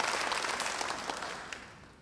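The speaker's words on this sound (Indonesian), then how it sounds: "Beri tepuk tangan yang baik bagi dia." A church congregation gives a round of applause, a dense burst of clapping that gradually fades toward the end.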